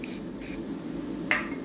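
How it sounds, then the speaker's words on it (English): Glue accelerator sprayed from an aerosol can in short bursts: two brief hissing puffs, then a sharper spritz near the end, close and fairly quiet over a low background hum. "I will just spray accelerator on it first"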